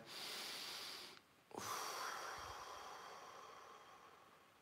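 A single deep, slow breath, close and soft, with airy inhalation and exhalation and a brief pause between them, heard during a calm guided relaxation exercise.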